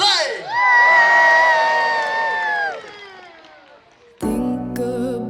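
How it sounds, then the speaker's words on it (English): An outdoor crowd at Peasholm Park, children among them, lets out a long, loud, rising cheer that tails off, then erupts into a second burst of shouting and whooping after a brief lull. "let's have a cheer, come on, 1, 2, 3!"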